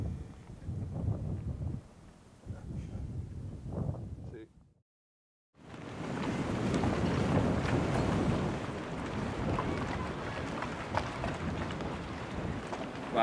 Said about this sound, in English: The wind is blowing something like, it's been up to 40 knots. Really, really blowing.